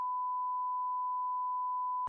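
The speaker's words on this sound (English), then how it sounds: "Yeah, let's bleep it." A steady censor bleep masks a name during a podcast, a single pure tone held evenly for about two seconds and cut off abruptly at the end.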